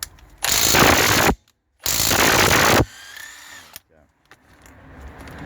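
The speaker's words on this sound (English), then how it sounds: "my impact gun should be powerful enough to" An impact gun loosening tight nuts: two loud, sustained rattling hammer bursts of about a second each, separated by short pauses, followed by quieter clanking and handling noise.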